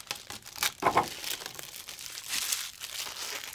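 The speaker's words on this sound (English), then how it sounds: "just peel the sleeves off" Plastic protective sleeve peeled off a movie case, a close run of crinkling and tearing plastic with a couple of sharper rips, continuous for a few seconds with no talking.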